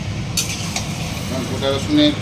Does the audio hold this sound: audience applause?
no